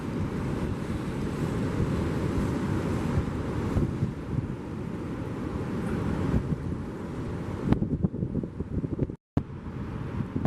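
Fast outflowing water at the St Lucia estuary rushes in a constant broad roar, mixed with heavy wind buffeting the microphone and a brief dropout near the end.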